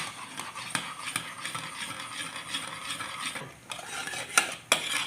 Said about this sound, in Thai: คนไปเรื่อยๆ ให้กะทิแตกมันนะคะ